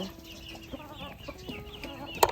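Chickens cluck and chatter close by while being fed on a farm, a busy overlapping flock with short clucks and one louder squawk near the end, no voices.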